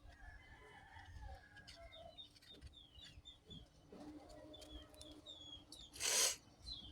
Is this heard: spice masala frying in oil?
no